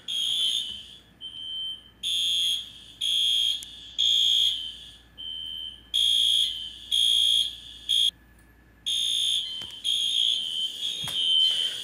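A Classic Spectre Alert fire alarm sounds during a system test, loud, close and shrill, blaring in repeated on-off pulses of steady tone with short silent gaps, and no voices.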